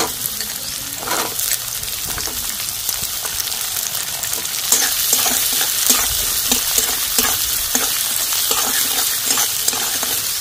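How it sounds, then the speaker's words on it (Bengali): Chopped onion goes into oil with chopped ginger and garlic for chicken fried rice, producing a loud, continuous sizzle punctuated by repeated scraping and clacking strokes of a spatula stirring the pan. "এই সময় পেঁয়াজ কুচিটা দিয়ে দিচ্ছি।"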